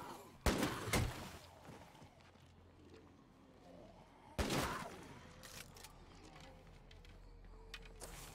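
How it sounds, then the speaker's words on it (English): Gunfire in the zombie survival game State of Decay 2. Two sharp, loud bursts of shots are heard about four seconds apart against a steady game background, with faint talk in places. "now he's shooting"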